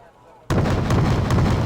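A sudden loud artillery blast from the Wargame: Red Dragon strategy game, an abrupt boom followed by sustained rumbling and crackling bursts that fill the rest of the short moment.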